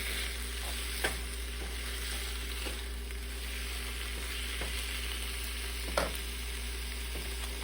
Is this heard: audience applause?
no